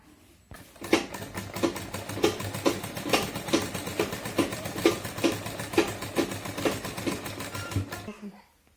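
A sewing machine stitches along the side of a sleeve, through the lining and outer fabric, in quick rhythmic bursts of clattering stitches for about seven seconds, close and steady, with no voices.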